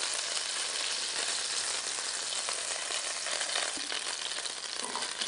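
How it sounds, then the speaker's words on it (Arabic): Diced onion fries in hot fat in a pan while a meat and cream tagine is being made, giving off a steady, close, crackling sizzle throughout. "حضيف البصل لنفس الدهن اللي انا عم بشتغل فيه"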